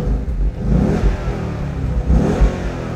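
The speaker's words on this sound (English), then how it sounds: "that is easily one of the best sounding engines out there" Ford Mustang V8 convertible engine revving hard in two strong, loud surges, deep low rumble swelling and falling back, close up with no talking.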